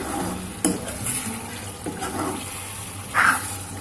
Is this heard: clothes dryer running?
no